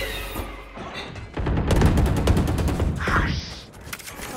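Gunfire in the video game Valorant, a dense burst of rapid shots and impacts in the middle of the clip, with brief voice chatter in the background.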